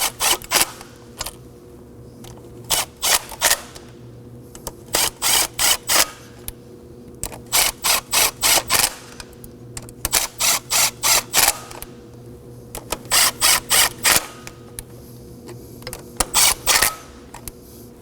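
Bolts on a high-pressure fuel pump of a 2014-2020 Acura MDX 3.5L V6 being snugged with a ratchet, rapid bursts of close, crisp clicking repeated in short groups with brief pauses between them.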